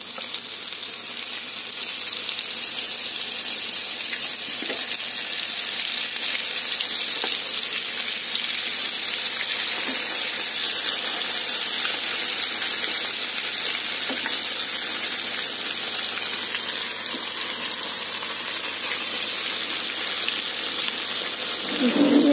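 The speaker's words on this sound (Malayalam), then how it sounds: "ഇനി അടുത്തത് എണ്ണയിലേക്ക് വറുക്കാനിടുകയാണ്" Brinjal slices sizzle steadily in hot oil for a spicy fry, a continuous bright crackling hiss held close and loud without pause.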